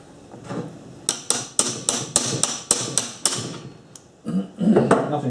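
Light hammer taps on the centrifugal clutch of a post hole drill, about nine sharp metallic knocks in a steady rhythm close by, then a scraping rattle at the end.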